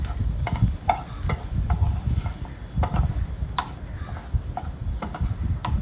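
Green peas for a kachori filling are stirred and sautéed in a nonstick pan, with a spoon scraping and tapping in an uneven rhythm over a soft, close sizzle, and no talking.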